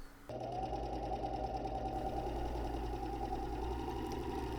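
A serger sewing machine stitches a test seam on fabric with a steady, fast mechanical whir and hum. It starts abruptly and runs continuously at close range with no talking.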